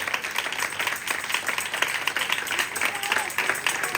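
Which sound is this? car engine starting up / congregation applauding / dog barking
congregation applauding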